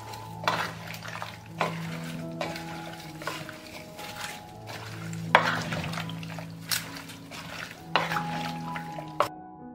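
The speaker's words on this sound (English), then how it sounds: "I will stir." Hunting salad with oil, vinegar, salt and sugar stirred in a pot on the stove, a spoon scraping and clinking against the metal in a steady rhythm of soft knocks under a low cooking hiss.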